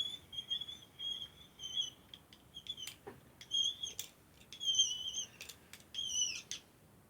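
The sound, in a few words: Makins clay extruder being cranked, pushing out polymer clay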